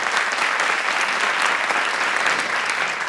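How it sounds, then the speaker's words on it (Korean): A large audience applauds steadily and loudly at a televised Korean lecture competition as the judges are introduced, a dense, even clapping that holds throughout without speech. "큰 박수 부탁드리겠습니다."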